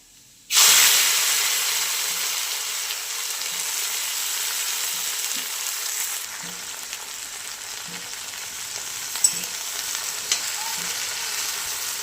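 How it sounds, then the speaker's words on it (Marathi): Cluster beans (guar) drop into hot oil tempered with mustard seeds, cumin and garlic, setting off a sudden loud sizzle that settles into a steady, close hiss with faint stirring knocks. "त्याच्यामध्ये परत गवारीची शेंग"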